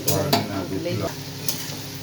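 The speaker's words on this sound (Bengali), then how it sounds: "আচ্ছা ঘুগনির জন্য পেঁয়াজটা ভাজা হচ্ছে" Onions for ghugni frying in mustard oil in a pan, a steady close sizzle broken by a few sharp scrapes and stirs of a utensil against the metal.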